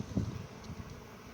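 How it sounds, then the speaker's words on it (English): Agitated bees buzz around an upturned hive close by on a windy day, a low fluctuating hum with a brief louder swell at the start, no voices. "that's the hive turned upside down. The bees aren't happy, obviously."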